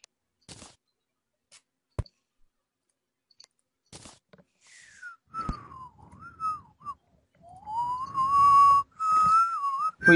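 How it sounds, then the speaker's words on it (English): A person whistles a wavering, sliding tune, soft at first and then louder and steadier toward the end, with a few sharp clicks and taps earlier on during a modded Terraria play session. "Please don't whistle."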